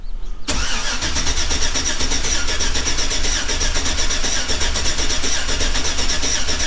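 A 2007 Chevrolet Silverado engine cranks steadily in clear flood mode after a lifter replacement, a loud, continuous rhythmic starter churn that begins abruptly and runs on alone.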